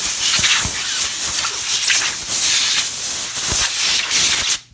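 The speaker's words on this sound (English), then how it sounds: "I take an air compressor and blow out my die" An air compressor blows a strong, steady hiss of compressed air through a small base reloading die, with brief dips and pulses as the nozzle moves, cutting off abruptly just before the end.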